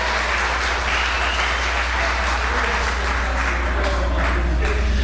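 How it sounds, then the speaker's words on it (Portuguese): Applause at a church Carnival retreat, honouring a member's wedding anniversary; a dense, continuous round of clapping from a gathered group, with a strong low hum running underneath throughout. "Vamos dar uma salva de palmas para a bodas do Dudu?"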